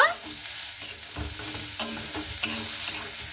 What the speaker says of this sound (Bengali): দিয়ে আবারও সেই ফুলকপি গাজর দিয়ে সবগুলো দিয়ে একটু ভালো মতো করে ভেজে নেব।